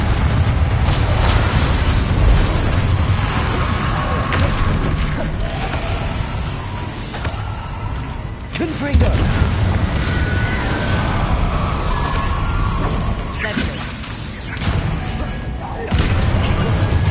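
Bombarda spell explosions in Hogwarts Legacy: a sustained loud battle scene with several heavy booms and bursts over a rumbling, creaking mechanical bed, with a voice heard briefly.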